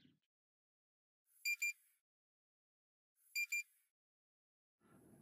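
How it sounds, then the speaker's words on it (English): A car's tyre pressure monitoring system sounds two short, high electronic beep pairs a couple of seconds apart inside the quiet cabin, with faint rustling at the end. "my tyre pressure monitor system just started beeping at me"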